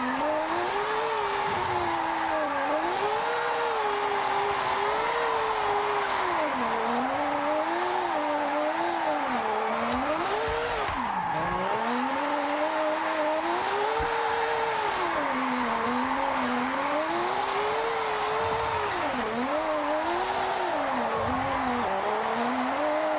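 A small, high-revving car drifting in Assetto Corsa, its engine note rising and falling steadily while the tires squeal continuously, loud and close for the whole stretch with no talk.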